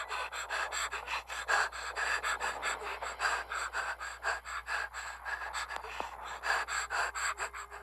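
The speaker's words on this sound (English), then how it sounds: "Wasn't expecting the whimpering and the breathing of another person." Whimpering, panting breaths of a wounded woman in a dark, bloody scene of the visual novel game The Talkie, gasping steadily and close up across the whole stretch with no talking.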